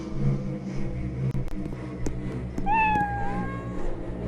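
A cat meowing in a video game, a single drawn-out, falling meow near the middle over a humming background with a few soft clicks and taps, close and clear.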